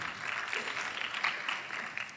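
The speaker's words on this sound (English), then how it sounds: "Let us all give them a big applause" Audience applause at a classical dance arangetram, a soft, even patter of many hands heard from a distance for a couple of seconds.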